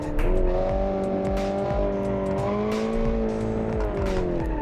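A car in BeamNG.drive revs hard and accelerates with a steady rising engine whine while its tires squeal through a corner, loud and continuous with no talk.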